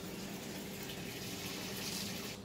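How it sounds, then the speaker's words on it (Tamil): Water poured onto garden plants in a steady, unbroken hiss and splash close by on a cool morning, fading off abruptly at the very end. "இப்போ நம்ம வந்து செடிகளுக்கெல்லாம் தண்ணி ஊற்றிடலாம்."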